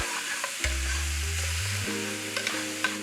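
A utensil stirs carne en su jugo in a hot pan with steak drippings, sizzling and frying throughout with a few sharp scrapes and clacks against the pan.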